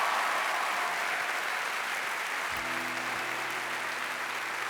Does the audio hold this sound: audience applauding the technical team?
yes